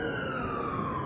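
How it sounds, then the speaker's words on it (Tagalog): An ambulance siren wails steadily in a city square during a lockdown, one of several ambulances gathered there, a sustained tone fairly close and continuous with no voices over it. "Anim na ambulansya, oh."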